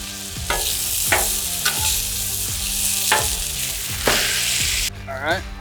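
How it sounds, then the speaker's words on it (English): Onions sauteing in vegetable oil on a flat griddle, a steady close sizzle with intermittent sharp scrapes and clacks of a spatula turning them; no talk. "Start sauteing my onions."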